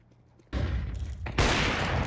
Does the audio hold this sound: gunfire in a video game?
yes